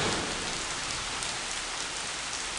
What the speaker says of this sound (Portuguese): Está voltando a ficar mais forte a chuva.